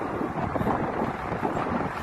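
Strong wind on the Jeddah waterfront buffets the microphone in a continuous, dense roar, with a faint hint of sea and boats in the background and no voices.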